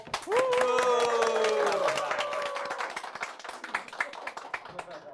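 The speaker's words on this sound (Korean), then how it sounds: "큰 박수로." Applause and clapping from an audience greeting Professor Emmanuel Pastreich at a Korean book forum author talk, loud at first and tapering over several seconds beneath a host's voice.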